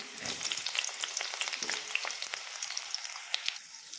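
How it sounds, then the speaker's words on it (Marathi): Thinly sliced onion fries in hot oil with a constant crackling sizzle and scattered pops, close and unbroken, no voices. "आता या तेलामध्ये मी हा कांदा उभा चिरून घेतलेला आहे पातळ तो टाकत आहे"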